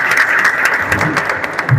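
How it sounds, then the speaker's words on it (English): Audience applause at an event honouring a champion, a dense, steady wash of many hands clapping close and loud for the full stretch, with a few heavier claps standing out near the end. "Please another round of applause for him."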